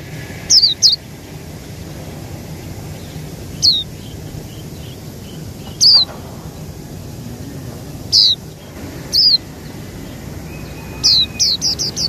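High, thin chirps of an oriental white-eye chick come in short bursts of two or three, repeated every couple of seconds over a faint steady insect buzz.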